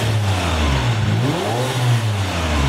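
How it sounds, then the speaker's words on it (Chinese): A rented supercar engine revs and pulls away, a loud, rough mid-pitched roar sweeping up and down in pitch over a few seconds, heard close without any voices. "发动引擎，客人拉风上路。"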